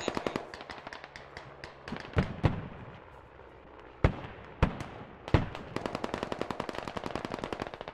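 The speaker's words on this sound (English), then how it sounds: "Oh, we're getting artillery here." Artillery shells and heavy gunfire in a military shooter battle, with rapid machine-gun bursts and several sharp, loud explosions punching through the crackle, no voices.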